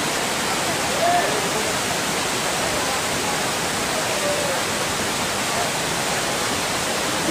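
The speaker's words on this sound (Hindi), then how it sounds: "नाले बर्फ़ के नीचे से पानी आ रहा" Meltwater stream rushing beneath snow along the mountain trail from Baltal to Chandanwari, a steady, dense, hissing roar that holds at a constant level throughout with no pauses.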